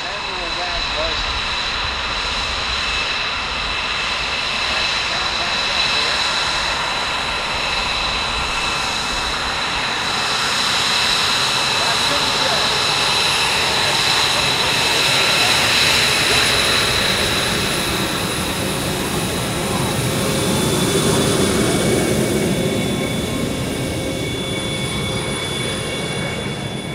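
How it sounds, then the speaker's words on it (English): An F-22 Raptor fighter jet flying a demo at the MCAS Cherry Point Air Show 2024 gives a loud, sustained engine roar that swells and fades over the whole stretch, with a voice talking over it. "That's the F-22 Raptor"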